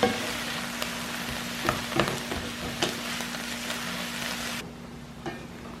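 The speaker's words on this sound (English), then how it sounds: "you just cook it down until it's all wilted down and looks kind of like spinach" Lettuce frying and wilting down in a pan gives off a continuous close sizzle, broken by a few sharp stirring scrapes and knocks before the sound drops away near the end; no one speaks.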